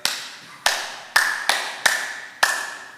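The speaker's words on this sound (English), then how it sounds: "start off this one by clapping it together" A church congregation at a Unitarian Universalist Sunday service claps together in a steady rhythmic pattern, five sharp unified claps in a few seconds, close and crisp with no talk.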